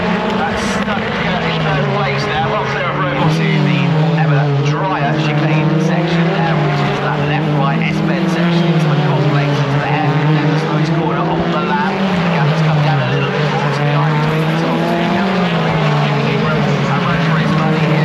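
BTCC touring cars racing at Croft Circuit on a drying track, engines rising and falling as they pass and shift, a loud continuous multi-car roar under a commentator's voice.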